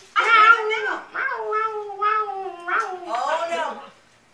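Cat meows and drawn-out caterwauling from several cats, used as a comic sound effect, a series of loud, close, wavering yowls running back to back with brief gaps.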